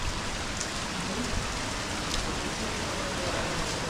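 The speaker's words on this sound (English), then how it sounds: "It's a really heavy rain." Heavy typhoon rain pouring down in Tokyo, a dense, loud, continuous hiss of drops hitting surfaces with no pauses and no voices.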